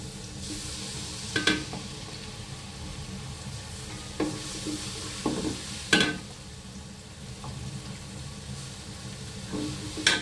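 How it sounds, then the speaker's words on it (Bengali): Onions frying in a pan for chicken biryani give a steady low sizzle, broken by a few brief clinks and stirring scrapes, close and moderately quiet with no talking. "আর এদিকে এখন আমি বিরিয়ানিটা রান্না করতেছি পেঁয়াজটা একটু ভেজে নিচ্ছি"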